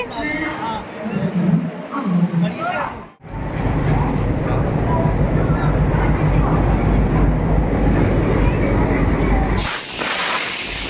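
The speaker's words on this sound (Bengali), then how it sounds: "আমাদের ট্রেন ঢুকে গেছে, আমরা ট্রেনে বসে গেছি।" The Kumbh Express at Howrah station in Kolkata, a loud, steady rushing hiss of the train and platform that runs without a break after a few seconds of voices at the start.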